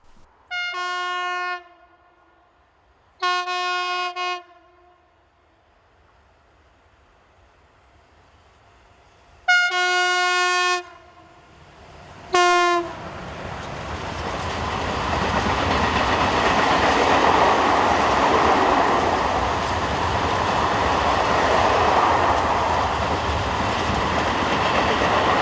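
An empty freight train in Spain, hauled by locomotives 253099 and 067 near the Trasona steelworks, sounds several loud horn blasts, then rumbles past in a long, steady roar of wagons.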